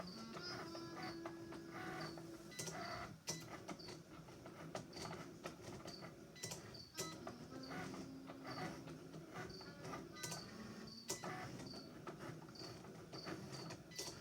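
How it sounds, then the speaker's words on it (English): A Cricut Explore Air 2 cutting machine works steadily, giving off a quiet whir of its motor with repeated clicks and a sliding carriage hum, no voices. "It says cut in progress and my machine's definitely cutting."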